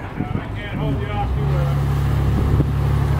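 A single-engine boat's motor runs at high idle in neutral while docking in a steady 15-knot wind, a constant low drone with wind buffeting the microphone and a voice speaking over it.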